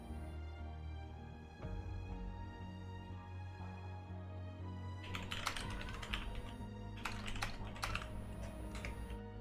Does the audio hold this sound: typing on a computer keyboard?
yes